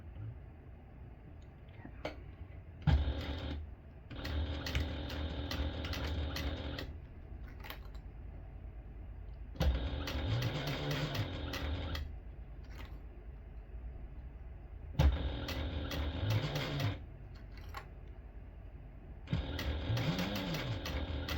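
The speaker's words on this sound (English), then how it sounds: "we're just going to sew about 1/8 of an inch from the side of the webbing" A sewing machine stitches along the webbing of a small tote bag in several separate runs, each burst a steady mechanical whir that stops and starts again between pauses, with quiet talk in the gaps.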